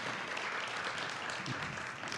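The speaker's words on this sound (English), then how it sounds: "Let's give them a round of applause again." Faint, even applause from an audience at a community racial healing event continues steadily for a couple of seconds, distant and unbroken.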